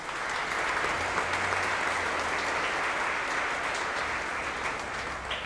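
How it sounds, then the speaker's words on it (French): Congregation at a solemn church feast applauding, a dense, steady wash of clapping from many hands that holds evenly through the whole clip with no speech over it. "Je vous demande de les applaudir."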